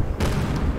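Explosions thunder through a sci-fi space horror game, a dense, heavy rumble of blasts and crackling bursts lasting under a second, loud and close with no talk over it.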